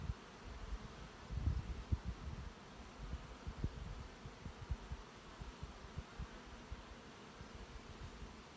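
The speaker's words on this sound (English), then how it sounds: "There's so many bees in here." Faint, steady buzzing of many honey bees close by in an open hive, with soft irregular bumps and rustles underneath.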